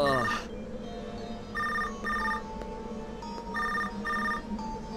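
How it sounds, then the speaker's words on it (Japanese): An incoming-call ringtone in the Switch video game Tokyo Mirage Sessions #FE Encore, a repeating electronic ring in two-burst pairs over a steady background music bed. "ちょっと待って、舞子さんから着信だ。"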